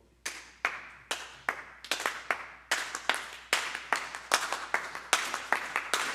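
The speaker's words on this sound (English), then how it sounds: "just pick whatever clapping pattern you want or choose your own" A congregation at a Unitarian Universalist church in Fresno claps rhythmic patterns, crisp individual hand claps in a steady, syncopated beat, fairly close and alone without singing or speech.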